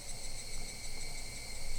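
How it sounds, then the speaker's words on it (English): Dense, steady chorus of cicada-like insects buzzing and chirping without pause in the background, a continuous high shimmer with no voices present. "hear all those cicadas in the background"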